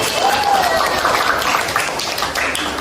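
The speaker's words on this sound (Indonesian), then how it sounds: "Tepuk tangan dulu untuk kita hari ini." A class claps hands together at the end of a lesson, loud, close and continuous, with a voice briefly audible over the clapping.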